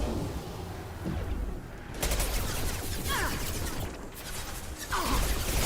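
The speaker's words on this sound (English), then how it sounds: "I love shooting those tanks" Gunfire aimed at tanks in Mass Effect 2, bursts of rapid shots and impacts crackling through a busy mix of whooshes and mechanical clatter, moderately loud and steady throughout.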